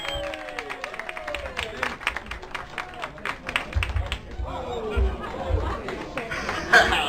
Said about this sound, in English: So a big round of applause for Jay Zentco.